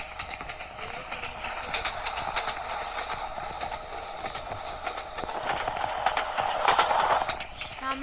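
The Subarna Express in the Train Simulator Bangladesh game rolls along at speed, a continuous rumble with rhythmic wheel clatter that grows a little louder toward the end.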